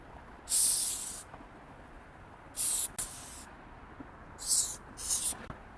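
A spray paint can sprays in five short, close hissing bursts at irregular intervals, with near silence between them.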